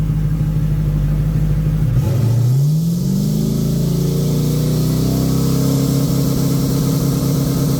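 Turbocharged car engine in third gear held on the trans brake: a loud steady idle rumble that rises into a sweeping rev at about two seconds, then holds a strained, droning roar throughout, with no talking.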